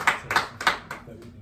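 A few hands clap for a sound engineer: about four separate, close claps in a slow rhythm, fading after the fourth, with a voice faintly present.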